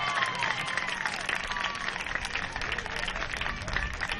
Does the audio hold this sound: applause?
yes